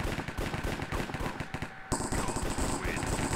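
Rapid automatic gunfire in the Minecraft minigame Hypixel Cops and Crims: dense, loud bursts of shots that fire almost continuously, with only a brief lull partway through before the shooting resumes.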